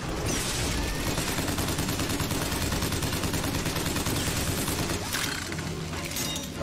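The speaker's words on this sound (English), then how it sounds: "Gatling gun!" A Gatling gun firing in the video game BioShock Infinite: a steady, rapid stream of shots that runs without a break for several seconds, loud and close, with a few clanking mechanical sounds mixed in.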